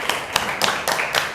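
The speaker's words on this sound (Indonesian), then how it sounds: "Kita beri tepuk tangan untuk kita semua." A classroom group claps hands in about five sharp, evenly spaced collective bursts, close and brief with no talk.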